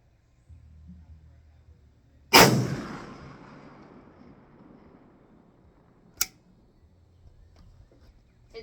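At an outdoor shooting range a PSL rifle fires one loud, sharp shot that booms and decays over a couple of seconds, followed by a fainter distant crack later on, with no talk.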